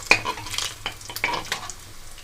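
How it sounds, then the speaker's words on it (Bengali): Pakal eel fish fries in oil in a pan, heard as soft, intermittent sizzling and scraping bursts with a faint low hum underneath and no speech. "এবার আমি সেকেন্ড ব্যাচেও মাছগুলো একইভাবে ভেজে নেব"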